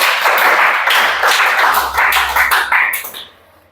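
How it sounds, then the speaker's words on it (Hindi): A classroom of students preparing for the Chhattisgarh police recruitment exam breaks into loud, fast clapping up close, a dense run of claps that holds for about three seconds before thinning and stopping. "ताली बजाओ बी के लिए"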